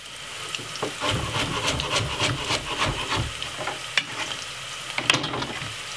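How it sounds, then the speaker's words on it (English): Chopped carrots sizzle and crackle in hot oil while being stirred, with repeated scraping strokes and a few sharp clacks of the utensil. "So we're frying off the carrot"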